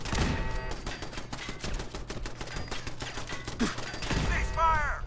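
Rapid gunfire in the Fallout 4 video game during a Brotherhood of Steel mission, a dense rattling burst of shots running through most of the stretch with voices and game sounds mixed in.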